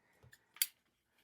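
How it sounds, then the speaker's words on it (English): Scissors snip paper for journaling pages in a few quiet, separate cuts close by, with one sharper snip in the middle and a short rustle at the end. "I might just be using scissors."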